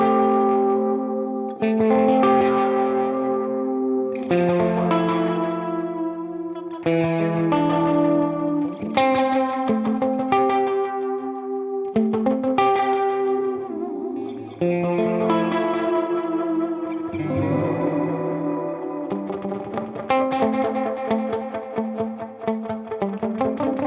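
An instrument played through a UAFX Starlight Echo Station stereo delay, its repeated notes and chords smeared by wobbling tape-style warble and modulation, with echoes trailing after each phrase; clear and upfront, with no talking.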